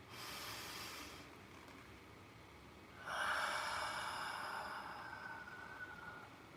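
Deep breaths at the close of a morning meditation, one long airy inhale followed by a pause and then a longer, louder exhale, close and quiet with no talking.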